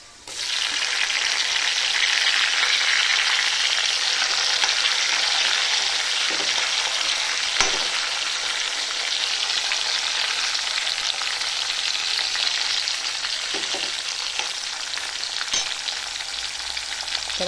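Tomatoes fry in a pan with a loud, continuous hiss that holds level throughout, broken only by a few soft knocks and taps.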